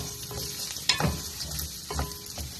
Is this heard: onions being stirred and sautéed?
yes